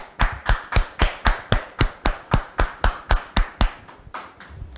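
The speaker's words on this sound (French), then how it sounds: "On la reçoit sous vos applaudissements." Rhythmic hand clapping, about a dozen sharp claps in steady succession, fading out near the end with no voices.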